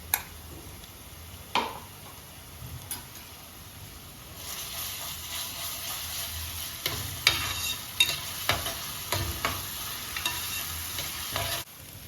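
Asafoetida and ginger-garlic paste sizzle in hot oil with sautéed onion for a Malvani clam curry, a steady close frying hiss broken by sharp taps and scrapes of a spoon stirring the pan.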